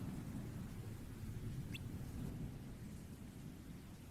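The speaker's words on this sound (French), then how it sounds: "Sauf que là il pleut." Steady rain in the Kingdom Hearts χ video game, a dense continuous hiss and low rumble with a faint high streak partway through, no voices.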